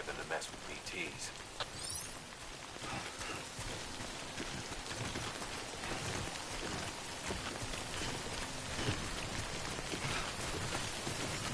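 Steady rain falls in the video game Death Stranding, a dense even hiss filling the whole stretch, with faint speech-like sounds now and then.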